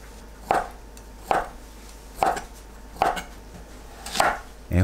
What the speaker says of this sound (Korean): 한입 크기로 썰어주세요